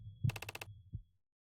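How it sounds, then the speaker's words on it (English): A low heartbeat sound effect from an audio drama: two deep, muffled thumps with a brief rattling buzz between them, close and isolated against silence. "I love the low heartbeat."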